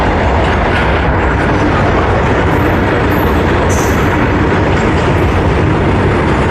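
A train rushes through a small station without stopping, a loud, continuous close roar of wagons and rumbling wheels that fills the whole clip, with faint high squeals above.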